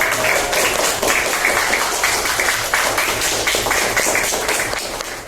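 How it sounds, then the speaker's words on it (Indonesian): A classroom group applauds a student team after its presentation in a teacher-training session, a dense, steady clapping that lasts the whole stretch and thins slightly toward the end. "beri tepuk tangan untuk kelompok 2"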